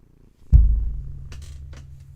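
A low, rumbling cat purr starts suddenly and continues softly and steadily up close, with a couple of faint rustles.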